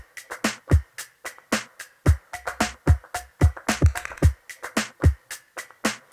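Full percussion loop for a pop production: punchy kicks and snappy claps over busy hi-hats in a steady groove, loud and close with no voices.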